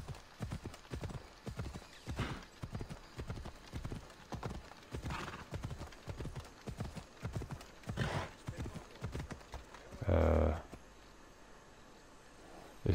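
A horse gallops in the video game Assassin's Creed Odyssey, its hooves drumming in a steady rhythmic clip-clop, with a loud burst near the end and game voices underneath.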